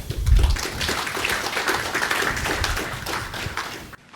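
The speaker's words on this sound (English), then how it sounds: "Please give them a round of applause." Audience applause fills a room at the Bangkok Summit for presenters Dr. Craig Wright and N-Chain CEO Jimmy Nguyen: dense, steady clapping from a crowd that holds for about four seconds, then cuts off abruptly.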